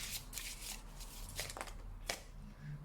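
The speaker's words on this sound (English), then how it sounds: "I'm going to do live shuffling." Oracle cards being shuffled by hand during a card reading, with several quick riffling bursts in an uneven rhythm, close and soft, with no talking.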